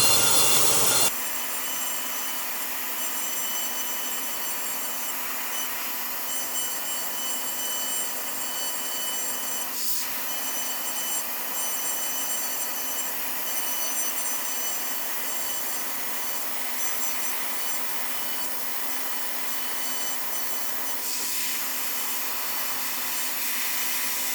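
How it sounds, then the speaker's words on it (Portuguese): A vacuum cleaner motor drones loudly at a steady pitch with a high whine, running continuously while cutting dies in a workshop, with a couple of brief shifts in tone. "liga o aspirador aqui, que aí ele já sopra direto para dentro do aspirador"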